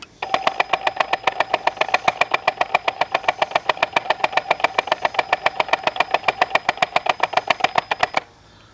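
An EGO POWERLOAD string trimmer head spins its motor to wind line, a loud, steady whirring with a rapid rhythmic clicking for about eight seconds before stopping abruptly.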